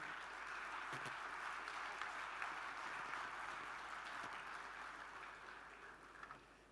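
An audience at the inauguration of an architecture festival in Rajasthan applauds to welcome Ashok Gehlot, steady continuous clapping from a large gathering that holds evenly and tapers slightly toward the end.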